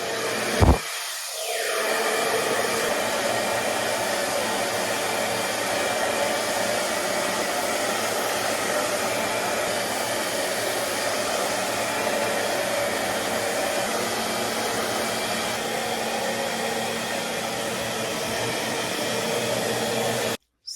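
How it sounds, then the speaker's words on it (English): A blow dryer roars steadily and loudly, drying hair, for nearly the whole stretch after a brief click at the start, a constant motor whoosh with no talking. "I'm gonna take my blow dryer by InStyler to just kind of set the top"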